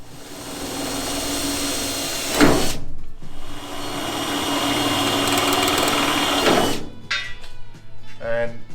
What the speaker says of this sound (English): Now that these holes are drilled, we're going to permanently fix these in place